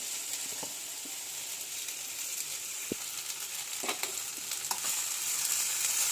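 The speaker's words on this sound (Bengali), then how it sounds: "এটা একটু ভাজা হচ্ছে দেখো আমি এটা যে ফ্রাই করছি" Chopped brinjal and okra fry in a pan with almost no oil, giving a steady, close hiss of sizzling throughout with a few soft taps and scrapes from stirring.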